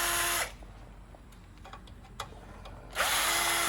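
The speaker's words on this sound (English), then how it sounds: "While Jim is taking out those screws" A power drill whirs loudly, stops for a couple of seconds of faint clicks and handling, then whirs again while backing screws out of a Lopi front-mount stove blower housing.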